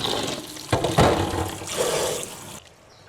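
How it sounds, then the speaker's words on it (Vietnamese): Running water rinses fermented black beans (tàu xì) in a kitchen, a steady rushing splash with a few louder sloshes before the flow cuts off. "Để tàu xì không bị mặn quá nhiều thì mình sẽ rửa tàu xì khoảng vài nước để cho nó bớt mặn."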